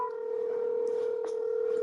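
In the UFC 2 video game, a phone gives a steady dial or dialing tone that holds evenly for about two seconds, with faint clicks on top.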